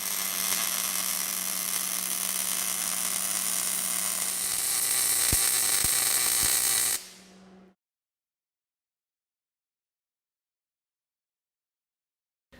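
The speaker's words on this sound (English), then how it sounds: "You make one straight weld." MIG (GMAW) welding of a straight bead gives a loud, steady crackling hiss for about seven seconds that cuts off sharply, leaving a short hum and then silence.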